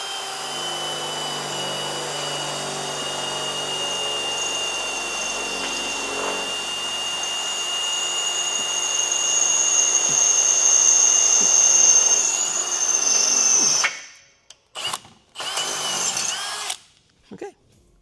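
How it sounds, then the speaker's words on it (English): A power drill whines steadily and grinds for about fourteen seconds while drilling into steel, rising in pitch as it bites, then stops and gives a few short bursts. "Don't let the drill bit sit there and spin on the surface without generating chips."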